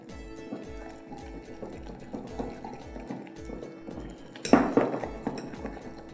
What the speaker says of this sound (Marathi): आता याच्यातल्या गुठळ्या आधी मोडून घ्यायच्यात.